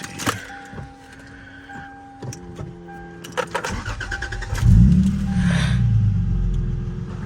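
A Lexus GS300 with a 2JZ engine and a ZF six-speed manual swap starts after several clicks and brief rattles, then cranks, catches and settles into a loud, steady idle rumble, close by and with no talk.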